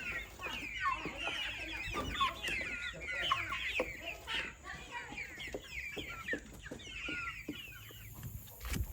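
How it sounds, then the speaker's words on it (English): Chickens on a small farm cluck in a busy, irregular series of short calls close by, with occasional louder squawks and some handling noise. "look at this chicken"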